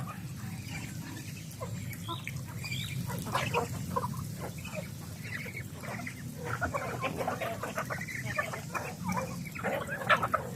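Chickens, ducks and turkeys cluck and squawk steadily while being fed on a farm, a busy overlapping flock chatter over a low rumbling background.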